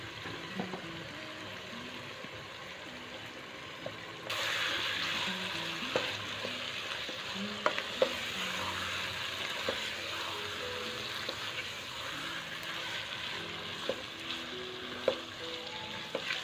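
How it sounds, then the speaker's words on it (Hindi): Chicken mince dropped into a pan of hot oil for an aloo shimla mirch dish, the sizzle jumping louder partway through and continuing steadily, with scattered stirring clicks and faint background tones. "और इसके साथ ही हम चिकन का कीमा ऐड कर दें।"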